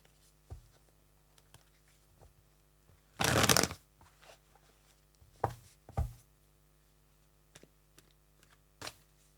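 Tarot cards shuffled by hand in a quiet room: a loud riffling burst in the middle, with scattered softer card taps and flicks before and after, no talking.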